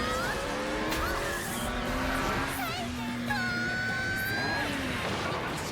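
A car in a video game skids hard with long, pitch-bending tire squeals over a steady engine drone, the screeches rising and falling one after another, loud and close, with no talk.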